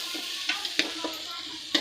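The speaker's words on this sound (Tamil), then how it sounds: "இப்போ நல்லா கலரி விட்டுக்குங்க." A spoon stirs puffed rice upma (pori upma) in a pan, giving a few sparse, light scraping clicks and taps against a soft background hiss.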